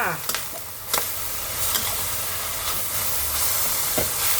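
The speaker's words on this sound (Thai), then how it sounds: "จากนั้นก็ผัดเลยจ้า" Noodles stir-fried with cabbage, carrot and sesame oil in a hot pan, giving a steady sizzle and hiss broken by scraping stirring strokes, close and continuous with no talk.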